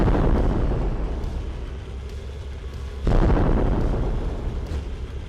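An explosion strikes a tank in the vehicle combat game Sprocket, a low rumbling blast that swells sharply midway and then rolls on with a heavy, sustained boom.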